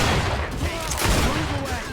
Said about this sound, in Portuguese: Vou começar a atirar agora.